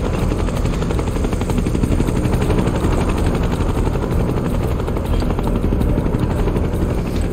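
A helicopter in the video game Final Fantasy 7 Rebirth, heard as a loud, steady rotor thrum with dense chopping and engine roar that fills the whole stretch without pause.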